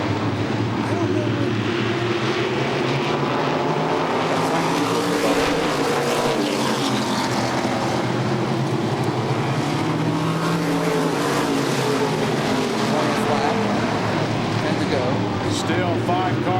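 Race cars roar around the oval at Columbus Motor Speedway, a continuous loud engine drone with rising and falling pitch as the pack passes, while a commentator talks over it throughout.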